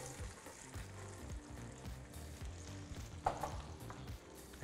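Chopped onion sizzling and frying in an electric pot for a sea bream stew, a steady close crackle with light stirring throughout.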